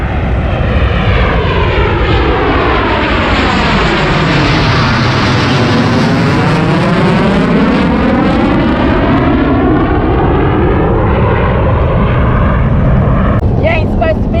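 A jet aircraft roars loudly overhead beside a North Carolina trout creek, its noise swelling and then fading in a long sweeping pass that fills the whole span.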